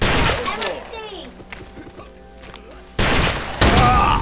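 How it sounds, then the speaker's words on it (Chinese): Handgun fire in the Ace of Spades video game, with sharp shots in quick clusters over a low, noisy battle backdrop that grows louder near the end. "我是用 handgun 在打他们"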